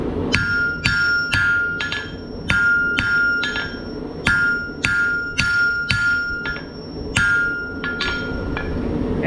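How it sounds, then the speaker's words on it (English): A hammer strikes hot steel while forging a chisel point, giving a series of about fifteen sharp ringing metallic clinks at an irregular rhythm, some in quick pairs, each with a short bright ring over faint background noise. "As I finish forging the chisel point"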